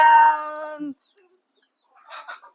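A native desi chicken gives a long, harmonic squawking call up close, then after a short quiet gap a few softer, brief clucks follow.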